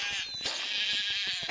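A sheep in The Wolf video game bleats in one drawn-out, wavering cry, loud and close over faint game ambience.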